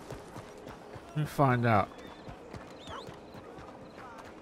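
Horse hooves clop steadily in the open world of Red Dead Redemption 2, a soft rhythmic beat under a brief spoken line and a short whinny-like call.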